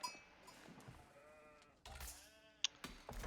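Sheep bleat a few times in a strategy video game, short wavering cries over a quiet game ambience, with a brief sharp click near the end.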